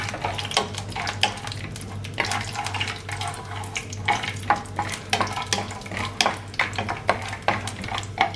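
Peanuts fry in a tablespoon of hot cooking oil, a steady sizzle broken by frequent close scrapes and clicks of a spoon stirring the pan, with no talking.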